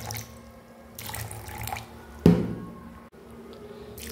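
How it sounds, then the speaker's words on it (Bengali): Cashews and raisins are rinsed in water for Bengali payesh: soft sloshing and trickling close by, with one sharper splash midway, all fairly quiet. "এই যে এখানে কাজু কিশমিশটা নিয়ে নিয়েছি, এবার এটাকে আমি ভালো করে একটু জলে ধুয়ে নেব।"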